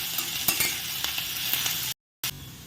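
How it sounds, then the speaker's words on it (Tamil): Onions and curry leaves sauté in hot oil with a bright, constant sizzle and a few sharp stirring taps, then a sudden short gap of silence before the frying resumes. "மீடியம் ஃப்ளேமில் வச்சுட்டு வெங்காயம் நல்லா வதங்குற வரைக்கும் வதக்கிக்கலாம்."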